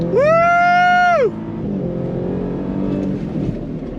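A 2024 Ford Raptor R pickup revs hard on throttle, a loud rising engine howl that holds for about a second before dropping away. A rougher, lower engine rumble and road noise follow.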